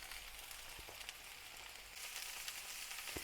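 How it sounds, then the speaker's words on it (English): Meatballs fry in a pan with a faint, continuous sizzle that grows slightly louder midway, with a couple of soft taps and no talking. "the meatballs have been cooking on the one side for a couple of minutes"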